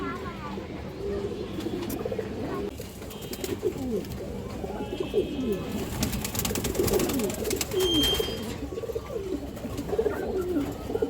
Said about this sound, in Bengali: জোড়া সিলভার কবুতর আছে মাসাল্লাহ যে দেখেন অনেক সুন্দর এক জোড়া কবুতর